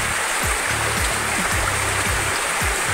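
Water rushing over a long stretch of rocks along a riverbank in Gumaca, Quezon, a loud, steady broadband roar close by with no talk.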